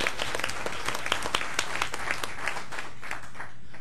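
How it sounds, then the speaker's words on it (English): Applause at a board of directors meeting, with scattered individual claps over a steady wash of clapping, moderately quiet and tapering off toward the end. "Let's a round of applause for you all"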